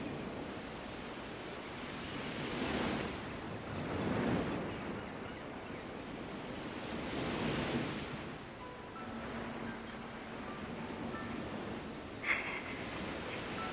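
Ocean waves surge and wash in slow, broad swells, rising and falling twice before settling into a steady hiss, with a brief sharp knock near the end.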